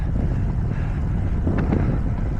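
Steady, loud wind buffeting the microphone of a cyclist riding a flat stretch between mountain passes near the Col de Menté, a continuous roar with no voices.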